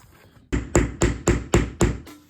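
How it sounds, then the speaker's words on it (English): A hammer strikes a metal jeans button to set it flush on denim, six sharp, evenly spaced taps ringing out close and loud with nothing else heard. "we're gonna push our button on top and we're gonna hammer this down so that it's flush"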